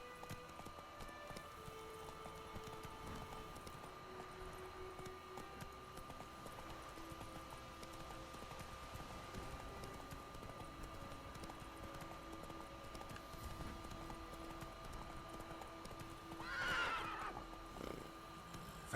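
Roach the horse in The Witcher 3 video game, faint hoofbeats under a low steady background, with one clear whinnying neigh near the end.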